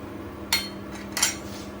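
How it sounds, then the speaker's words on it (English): A metal lid is set onto a cooking pot of simmering chili powder and oil: two sharp, close metallic clanks about three-quarters of a second apart over a low background hum. "Close the lid."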